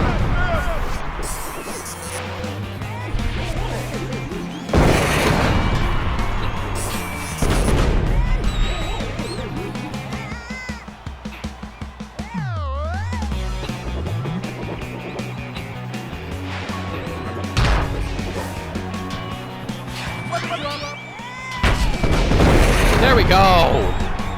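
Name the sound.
small explosions in a Jackbox video game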